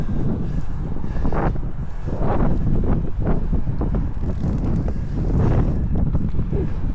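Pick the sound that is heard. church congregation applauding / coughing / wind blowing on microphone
wind blowing on microphone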